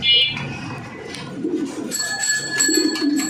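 Pigeons cooing at a pigeon market, low soft coos repeating amid bird chatter, faint bell-like tinkles and background murmur, fairly close.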